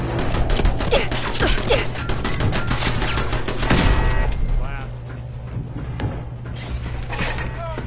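Turret gunfire in Fallout 4: rapid mechanical rattling bursts over a steady hum, loud and dense at first, easing later, with voices speaking over it.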